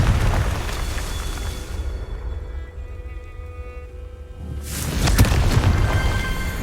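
A Confringo fire spell blasts in the game Hogwarts Legacy, a loud broadband burst rushing in at the end after a quieter stretch of rumbling game ambience.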